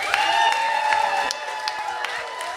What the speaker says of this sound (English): give me a round of applause if you've ever heard this gentleman.